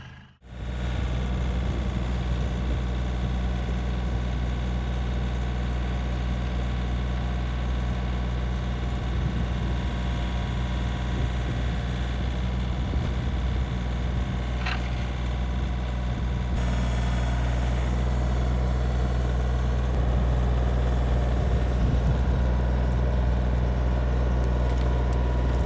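A tractor running a skid steer auger that spins slowly while digging a post hole for a timber frame firewood stand. It gives a loud, steady, low engine drone that holds throughout with no talking.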